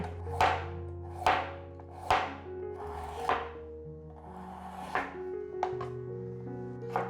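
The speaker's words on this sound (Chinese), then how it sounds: "把红萝卜切丝" A knife cuts a peeled carrot into strips on a cutting board, making about six distinct, evenly spaced chopping strokes over soft background music.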